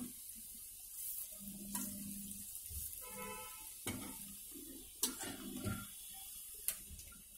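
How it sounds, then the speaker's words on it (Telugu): Raw banana fritters (arati kaaya garelu) frying in oil, a soft steady sizzle broken by scattered clinks and stirring scrapes of a utensil in the pan. "కొంచెం రెడ్డిష్ వచ్చే వరకు మనం ఇలా ఫ్రై చేసుకుంటే అరటికాయ గారెలు రెడీ అవుతాయి"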